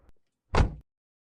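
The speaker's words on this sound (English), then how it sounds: "Now I just open the door." A van door is opened: a small faint click, a pause, then a short, fuller thud of the door moving, heard alone at close range.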